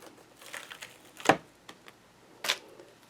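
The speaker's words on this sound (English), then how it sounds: "Let me go ahead and peel this one off." A clear stamp is peeled off its backing sheet, with two short, crisp crackling snaps standing out against quiet rustling close by.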